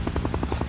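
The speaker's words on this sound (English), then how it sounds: "The medevac chopper is cleared to land nearby." A medevac helicopter sets down close by at a combat site, its rotor beating in a fast, steady chop of evenly spaced pulses over a constant low engine roar, loud and near with no voices.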